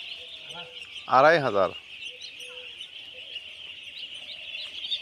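Fifteen-day-old ducklings in a large flock on a duck farm, giving a steady high chorus of peeping throughout while someone speaks briefly.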